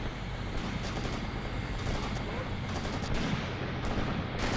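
Gunfire crackles through an Operation Star match as a bot shoots, a dense, noisy stream of shots heard at moderate distance over constant background rumble.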